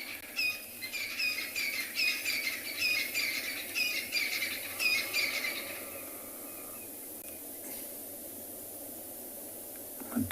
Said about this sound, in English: A lot of birds making noise. Those were some crested francolin.